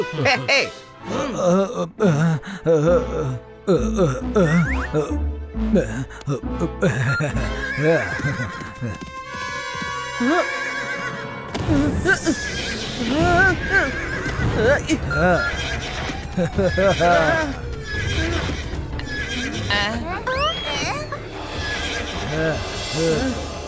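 In an animated cartoon, a remote-controlled duplicate horse neighs in loud, repeated whinnies with some clip-clop of hooves, mixed with voices talking and background music.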